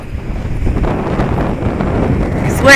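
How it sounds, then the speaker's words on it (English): Strong Hurricane Lane wind blasts across an ocean beach with palm trees and a lighthouse, a steady roaring rush buffeting the microphone for the whole stretch, with a sharper gust at the very end. "Ah, the wind is pushing me"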